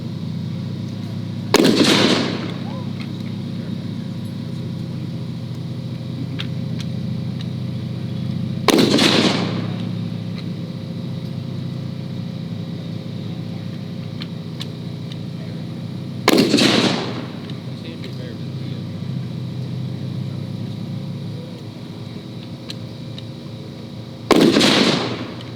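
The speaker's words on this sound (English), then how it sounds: "He's going to fire 5 rounds as quick as he can pull those out of his pocket." A rifle fires at a historical demonstration. Four loud, sharp cracks come several seconds apart, each ringing briefly over a constant low outdoor rumble, with no talk between them.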